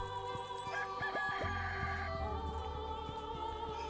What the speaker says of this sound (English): Okay, whose rooster was that?